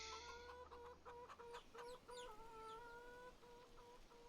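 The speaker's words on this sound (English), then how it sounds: "Some nice chickens." Farm chickens in the Farming Simulator 25 video game, clucking and murmuring in short repeated calls at a quiet level, heard alone without talk.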